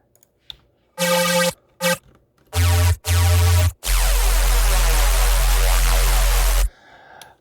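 A synthesized bass patch from bass music production plays in loud, chopped bursts, short stabs and then a long sustained growling note, with deep low end and gritty, buzzing upper harmonics, ending abruptly into quiet.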